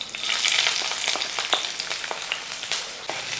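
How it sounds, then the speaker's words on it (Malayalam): Finely chopped garlic and ginger hit hot coconut oil, raising a loud, close hiss that settles into an ongoing crackling fry with a few sharp pops, no speech. "1 ടേബിൾ സ്പൂൺ വെളുത്തുള്ളി ചെറുതായിട്ട് നരിച്ച് വെച്ചിരിക്കുന്നത്, അതേപോലെ തന്നെ ഇഞ്ചി ഈ ചൂടായ എണ്ണയിലിട്ട് ഇതൊന്ന് ഇട്ട് കൊടുക്കുക"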